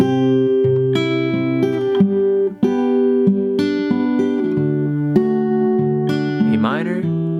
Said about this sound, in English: let's put together the entire chord progression and the fingerstyle patterns.